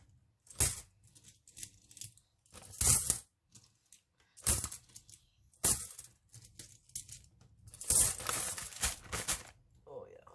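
Loose pocket-change coins tumble and clink onto a surface in several separate pours, each a bright metallic jingle, close and fairly loud, with quiet gaps between.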